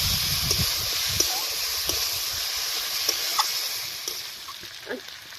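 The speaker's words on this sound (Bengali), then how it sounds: "চিকেনটা জল বেরিয়ে জলটা মরে ভাজা ভাজা হয়েছে, কষাই হয়ে তেল ছেড়েছে দেখুন।" Chicken frying in oil in a pan for a village-style chicken kanti, a steady soft sizzle running throughout with a few faint scrapes and clicks of stirring.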